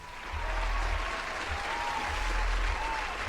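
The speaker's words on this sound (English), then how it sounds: "make sure you give yourself a round of applause today, man." A round of applause fills the stretch alone, a steady wash of clapping that swells after a quiet start and holds at even strength, with a faint tonal hum running beneath it.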